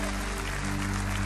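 A church congregation applauding during a sermon, dense steady clapping filling the room for a brief moment.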